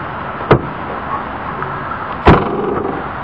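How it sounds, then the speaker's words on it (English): The trunk lock of a 1996 Ford Mustang GT is worked with a key, giving two sharp metallic clicks and clunks about two seconds apart, close and clear. "The key works the trunk lock."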